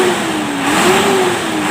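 A Hino Lohan diesel truck engine runs and revs, a loud, close, continuous mechanical roar whose pitch rises and dips as the throttle is worked, heard alone.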